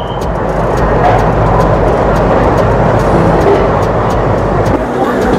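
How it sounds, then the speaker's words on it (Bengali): Howrah to Digha passenger train running after departing Howrah station, a steady loud rumble of wheels and carriage noise with a faint rhythmic clatter throughout, close and continuous. "আমাদের ট্রেন তার নির্ধারিত সময় হাওড়া স্টেশনের 10 নম্বর প্ল্যাটফর্ম থেকে ছেড়ে দিল"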